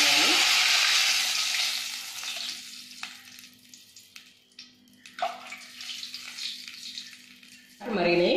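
A pan of water heats for rava kesari, giving a soft bubbling and simmering hiss at low level, with a few light clinks and a voice heard over it near the end.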